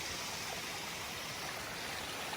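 Steady rushing of flowing water, a constant broadband wash with no pauses, fairly close and moderately loud, with no voices.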